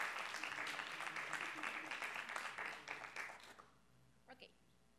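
Audience applause at a public policy panel event, dense clapping filling the room for nearly four seconds, then thinning out to a few scattered claps and near silence.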